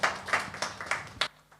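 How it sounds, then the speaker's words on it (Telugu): At a church gathering, a congregation claps to welcome a brother up to speak: a quick run of about six sharp, evenly spaced claps, fairly close, which stops abruptly and leaves a quiet room. "అందరూ కూడా చప్పట్లు తట్టి సహోదరుని కూడా ఆహ్వానిస్తారు"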